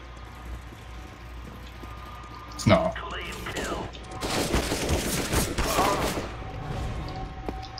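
Bursts of Counter-Strike: Global Offensive gunfire crackle in a laggy online match among friends: one sharp shot, then a dense rattle of rapid shots, with quiet player voices in the background.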